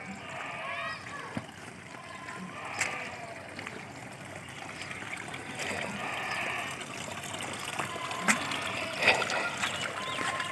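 Water from a village supply runs and splashes steadily, a continuous trickling and splattering with occasional louder splashes, while someone talks over it.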